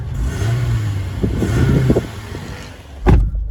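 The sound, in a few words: Toyota RAV4 GXL engine revving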